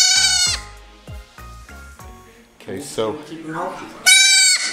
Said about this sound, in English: Okay, well, we got the baby goat.